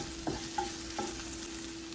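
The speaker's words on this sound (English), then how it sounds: "Into a fry pan at medium heat, I put 1 tablespoon of olive oil and 1/2 cup of chopped onions." Half a cup of chopped onions fries in a tablespoon of olive oil in a fry pan over medium heat. A soft, steady sizzle runs throughout, with a couple of light utensil taps and no talking.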